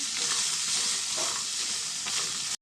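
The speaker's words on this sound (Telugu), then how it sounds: "మనకి కొబ్బరి ముక్కలు కూడా మంచిగా ఫ్రై అయితే బాగుంటుందండి" Coconut pieces frying in oil with turmeric for chutney, a dense, continuous close sizzle with faint stirring scrapes, cutting off at the end.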